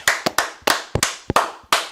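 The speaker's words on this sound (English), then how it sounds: "Clap it up." An audience at a live UFC watch show claps in sharp, uneven bursts, about eight distinct loud smacks over two seconds, close and with nothing else behind them.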